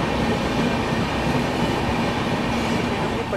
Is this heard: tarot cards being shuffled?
no